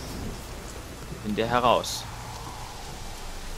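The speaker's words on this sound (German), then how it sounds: "glaube, Plötze mag das Gewitter nicht." Steady rain during a thunderstorm in The Witcher 3, an even hiss of falling rain filling the background while a voice speaks briefly in the middle.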